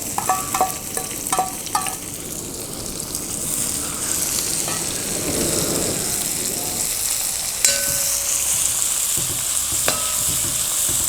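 Thinly sliced onions, two of them, frying in a pan for pepper chicken, starting with a few quick utensil clinks, then a steady bright sizzle that holds throughout, with a sharp clank midway.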